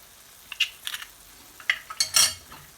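Egg bhurji made with seven eggs being mixed in a pan over a medium-low flame, a few quick clinks and scrapes of a utensil against the metal with a brief sizzle, close and without talk.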